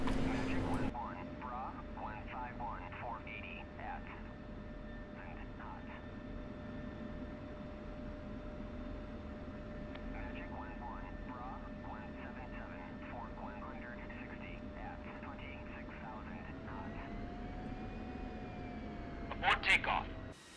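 A steady aircraft engine drone runs throughout a takeoff in the DCS flight simulator, loud and continuous, with a voice talking over it and brief sharp clicks near the end.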